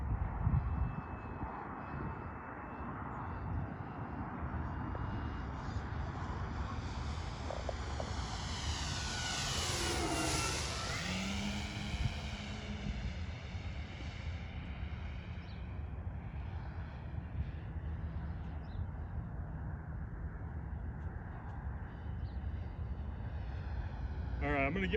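A Pilatus PC-6 aircraft flies before landing, its propeller engine droning steadily and loudly from inside the cabin, with a rising-and-falling tonal sweep midway and voices talking over the noise.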